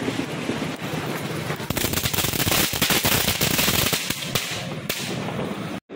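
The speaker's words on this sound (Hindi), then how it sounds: "और ये चटर पटर है जो कि छोटा भीम का इसमें फोटो बना हुआ है" Chatar Patar Diwali firecrackers, a small cracker pack printed with a cartoon character, burst in a loud, rapid crackling string of pops that runs almost without a break for about six seconds before cutting off abruptly.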